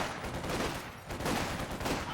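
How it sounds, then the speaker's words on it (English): Double MG42 machine guns firing in a video game, dense, continuous bursts of rapid gunfire that swell and dip, fairly close and uninterrupted. "And we have the double MG42 from WaterCup."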